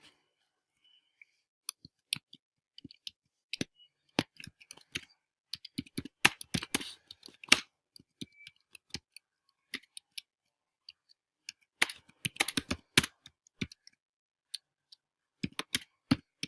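A comment is typed on a computer keyboard in quick, irregular bursts of crisp key clicks, close and fairly quiet, with short pauses between runs.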